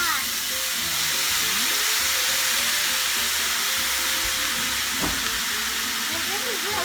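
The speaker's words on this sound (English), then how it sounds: "And this is really steaming." Chow mein noodles steam and sizzle in a hot pan, a continuous loud broadband hiss with faint scraping, while people talk quietly over it.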